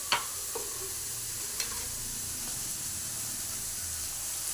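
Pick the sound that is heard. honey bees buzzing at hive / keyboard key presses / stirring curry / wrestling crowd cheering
stirring curry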